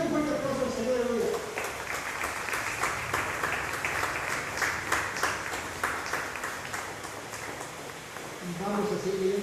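A church congregation claps in unison, a dense, rhythmic round of applause lasting several seconds between stretches of spoken voice at the start and end.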